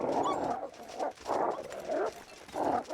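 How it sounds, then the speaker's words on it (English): Tamed dogs in Minecraft bark and whimper in a handful of repeated bursts, each a short, fairly close cluster of yelps and whines with brief gaps between them, and no one talking over them. "Good fluffy doggos."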